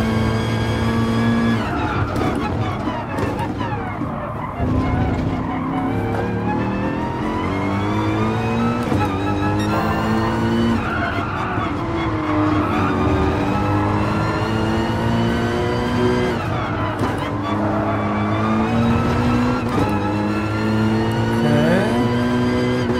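Porsche race cars roar through a Gran Turismo Sport race, engines loud and continuous with rising and falling revs as gears shift, tires skidding at times, with no talk over them.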